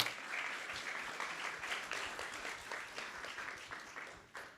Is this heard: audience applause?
yes